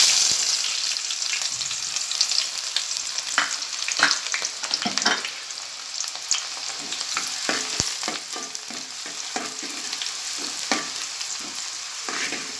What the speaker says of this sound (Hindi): तेल गरम हो चुका है। मैं इसमें प्याज डालूँगी।